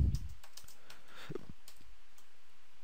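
Quiet keystrokes on a computer keyboard come as a loose run of light clicks, then a couple of sharper taps, with faint room hiss behind and no talking.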